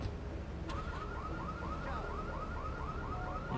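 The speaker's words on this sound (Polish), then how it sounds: "Alarm się już włączył" In the GTA 3 video game, a car alarm whoops in a fast, even train of rising electronic chirps, fairly faint over a steady background rumble, with a brief click near the start.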